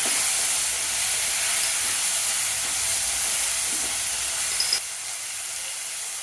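Onion and tomato sauté in a pan with a steady, fairly loud broadband sizzle that drops suddenly in level near the end, with no voices.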